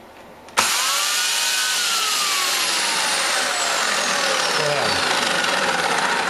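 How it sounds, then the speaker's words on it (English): A Black & Decker 240 V, 2200 W, 18-inch electric chainsaw motor starts abruptly after a quiet moment, then runs at a loud, steady, close high-pitched whine, with a faint tone gliding slowly down during the run. "As you can hear, that's a very powerful electric motor in there"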